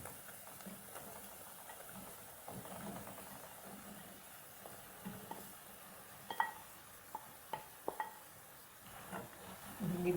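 Okra frying in tomato masala for bhindi ka salan, a faint continuous sizzle under scattered stirring knocks and scrapes of a spoon against the pan, with a few sharper clinks toward the end.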